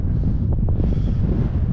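Strong wind gusts buffet a microphone on an exposed hilltop in the Dales, a steady loud roar with low rumble and no breaks.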